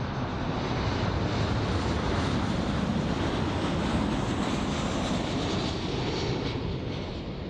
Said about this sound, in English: And here comes the KLM A330.